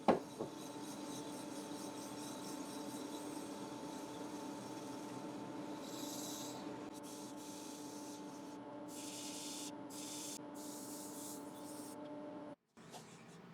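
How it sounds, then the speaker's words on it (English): Ash wood bowl base sanded on a spinning lathe: a steady, faint motor hum with a continuous rubbing hiss of abrasive against wood, stopping abruptly near the end. "So I'll sand away the last little piece on the lathe."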